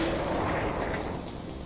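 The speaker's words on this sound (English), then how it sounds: "So I call the microwave cannon." Microwave cannon weapon in a Doom mod firing continuously, a dense roaring, crackling blast of game gunfire lasting the whole moment, loud and steady without pauses.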